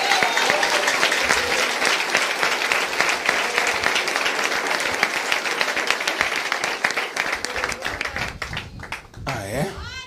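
Church congregation applauding loudly and steadily for about eight seconds, a dense wash of clapping that thins out near the end, with a voice speaking briefly over the final moments.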